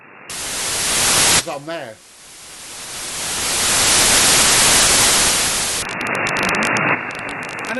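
Broadband hiss of radio static forming the noise floor on a receiver fed by a Wellbrook loop antenna, loud and steady throughout, with a brief speech fragment near the start and a choppy, gated section toward the end.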